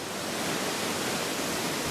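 A waterfall in the Dolly Sods backcountry pours in a constant, even hiss of rushing water, heard alone and without change.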